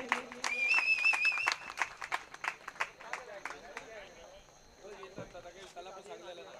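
Scattered outdoor clapping from a crowd at a rubber ball cricket prize distribution, a brief burst of claps under a whistle-like tone, then fading to sparse claps beneath a speaking voice.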